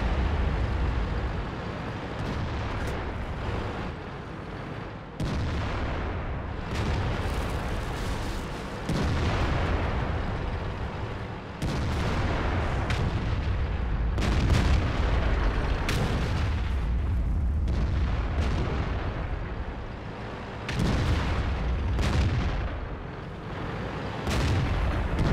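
Repeated loud tank cannon shots in World of Tanks battle, heavy booming blasts with rumbling tails spaced a few seconds apart over constant engine and battle noise, with no talk.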